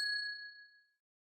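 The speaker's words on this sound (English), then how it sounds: "Is that a bell?" A single bright bell strike in the Batman: Year One video game, ringing clear and close, then its pure tone fading away within about a second.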